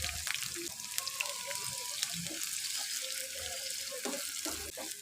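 Continuous hissing sizzle of chopped onions sautéing in a hot pan, with occasional scraping and stirring clatters under faint background voices.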